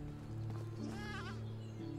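Sheep bleat in the medieval farming game Medieval Dynasty, a wavering call rising over a steady musical drone, near and clear with no talking.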